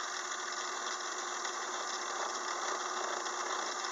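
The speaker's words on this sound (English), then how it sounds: "A little bit of chatter right at the first where it starts to engage." A gear cutter on a 6-inch lathe engaging a blank for a 56-tooth change gear, giving a steady, close mechanical whir with a light rattling chatter throughout, no voices.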